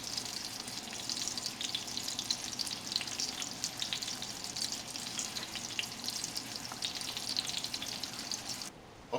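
Mushrooms and rice cook together in a pan for Piedmont-style risotto, giving a steady, close, even sizzle with faint watery bubbling that holds throughout and cuts off abruptly at the very end, no talking.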